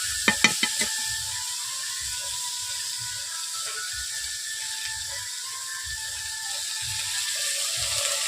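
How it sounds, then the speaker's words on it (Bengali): Continuous sizzle of green vegetables, including flat beans, frying with salt in a wok, with a few sharp clicks at the start and soft, scattered knocks from stirring. "সবজিগুলোকে আমি নুন দিয়ে ভেজে নিচ্ছি"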